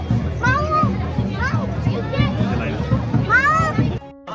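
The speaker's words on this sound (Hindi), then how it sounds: "ये देखो भीड़ बहुत है यहाँ पे।" A crowd queues at Surkanda Devi temple in Uttarakhand, with several close voices, including children, calling and chattering over a busy, steady background murmur.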